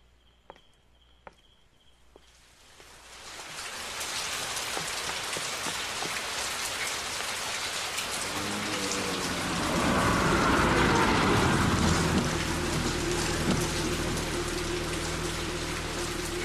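Heavy rain pours steadily onto surfaces, a dense continuous hiss that swells louder partway through, with a few sharp drips and knocks at the start and no voices.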